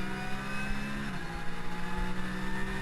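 Race car engine on board at Fuji during a Porsche Carrera Cup race, revving steadily as the driver smoothly opens the throttle, with a loud, continuous engine tone whose pitch shifts partway through, no talk.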